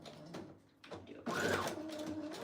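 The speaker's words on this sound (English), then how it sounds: "I'm gonna try to sew my page in here." Sewing machine stitching a paper junk journal page, whirring on in short bursts with a rising and falling motor whine, close and fairly quiet.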